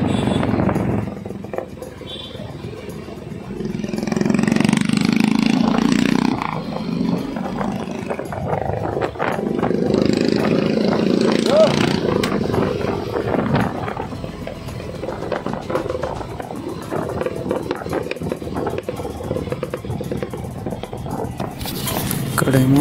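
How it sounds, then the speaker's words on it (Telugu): Motorcycle engines beating in a large group ride of over 500 bikes toward Taramati Resort, heard from a riding bike as a loud, continuous rumbling throb with rising and falling revs and wind noise, voices faint in the mix. "మన ఫ్రంట్ బైక్ అతను బైక్ బీటింగ్ సౌండ్ చాలా బాగుందన్నమాట"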